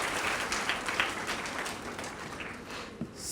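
An audience of students claps together at a university induction programme, a dense burst of applause that stays steady for a few seconds.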